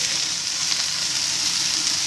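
Carrot and pumpkin sauté in melted butter for a creamy pumpkin soup, giving a steady, even sizzle and hiss of frying that runs unbroken and close throughout, with no talking.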